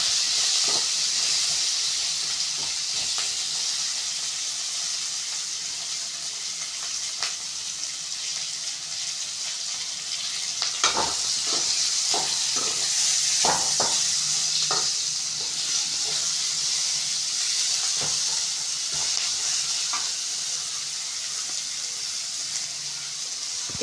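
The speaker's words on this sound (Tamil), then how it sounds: "இது மாதிரி நல்லா வதக்கிக்கலாம்" Tomato chutney ingredients with green chilli and ginger sautéing in a pan, a steady sizzle and hiss broken by repeated scraping stir clicks and clatters of the spatula, no talk.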